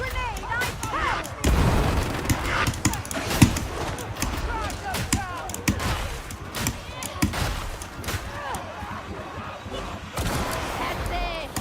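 Grenade blast in Warhammer 40,000: Darktide, a heavy boom amid dense gunfire and combat noise, with a sharp impact burst near the middle and a voice talking over the chaos.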